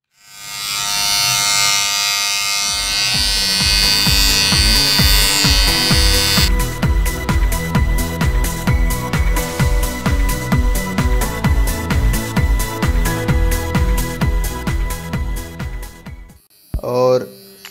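A Philips QT4011 trimmer buzzes loudly and continuously, then cuts through leftover stubble in a fast regular series of clipping pulses before switching off, with a brief rustle at the end.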